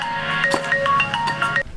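A telephone ringtone trills on repeatedly and goes unanswered, a bright electronic melody with short tonal notes that cuts off abruptly near the end.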